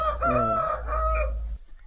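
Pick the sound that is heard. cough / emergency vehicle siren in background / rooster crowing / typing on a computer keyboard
rooster crowing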